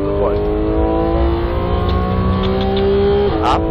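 A Porsche 911 GT3 engine revs hard as the car accelerates on the Red Bull Ring, a loud continuous in-car drone climbing in pitch with a brief gear change near the end.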